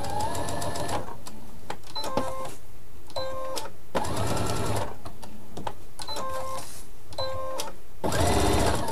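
Sewing machine stitching a multicolour fabric appliqué, loud and close, running in steady bursts with short pauses and beeping tones between runs as the needle is set and the work turned.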